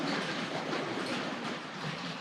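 A Tri-ang RS.2 express passenger model train set runs along its track, giving a continuous, fairly quiet rushing rattle with light clickety-clack, heard close and steady without speech.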